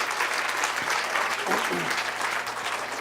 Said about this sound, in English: Let's give these leaders a round of applause.